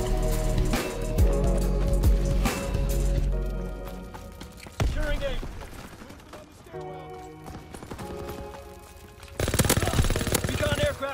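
Gunfire in the Call of Duty WWII video game comes as loud, sharp bursts and rapid volleys with quieter gaps between them, while a player talks over the fighting.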